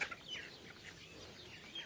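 A young chick tagging along behind its mother call duck gives a string of faint, high cheeping and clucking notes, soft and somewhat distant.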